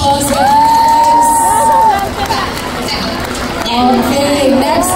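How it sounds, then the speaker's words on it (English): A fan meet crowd in Manila cheers and shouts loudly after a game segment, high excited voices and whoops swelling and ebbing over a roaring mass of noise, with a host's amplified voice in the mix. "let's give them a big round of applause, yes!"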